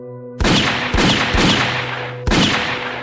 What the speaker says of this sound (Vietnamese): Tiếng súng nổ chát chúa.